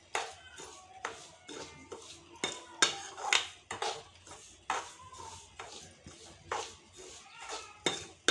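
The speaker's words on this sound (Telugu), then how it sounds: "ఆలోపు మనం రవ్వని సిమ్లో పెట్టుకొని వేయించుకోవాలి" Semolina roasting on low heat in a pan is stirred with a utensil, giving a run of sharp scraping and clinking strokes against the metal in a steady rhythm, close and quiet.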